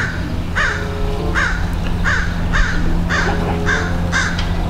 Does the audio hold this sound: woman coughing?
no